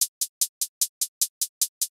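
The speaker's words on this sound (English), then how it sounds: "what I like to do is actually take my hi-hats and alternate them to kind of give it more of a realistic feel." Eleven evenly spaced hi-hat hits from a Logic Pro step sequencer play in a steady rhythm, crisp and bright, with slightly varying loudness from hit to hit.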